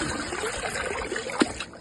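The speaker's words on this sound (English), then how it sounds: "I keep a steady flow of water in here" Water trickles steadily through a DIY compost extractor, a soft continuous flowing sound with one brief splash near the end.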